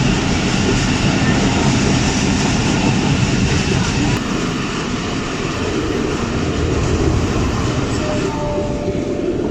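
Steady loud rumble and rattle inside the moving 122 Down Ravi Express, a Pakistani passenger train running from Lahore toward Shorkot in hot weather, with continuous broadband carriage noise and no pauses throughout.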